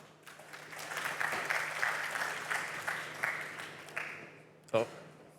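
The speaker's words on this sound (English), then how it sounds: "a round of applause, please" Applause from a tech conference audience welcoming a speaker, a steady wash of clapping that holds for several seconds, then a sharp thump near the end.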